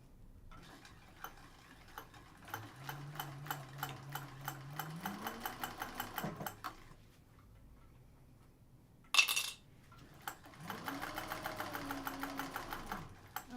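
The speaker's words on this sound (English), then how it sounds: "sew all 3 layers together" A sewing machine stitches through three fabric layers in two bursts of rapid even clicking, with a short whirring pause and a brief loud clatter between them; no talk.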